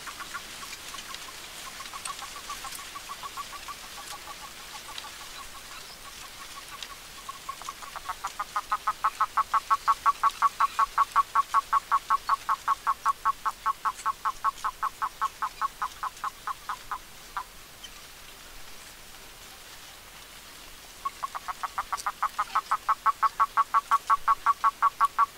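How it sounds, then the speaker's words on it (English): Toads giving their clucking mating call, recorded in the field: long trains of rapid, evenly pulsed clucks at a steady rhythm, one extended bout, then a pause, then another, fairly close, with no talking. "the other one is making kind of a clucking call, and that's the main call that they make when they're trying to attract mates"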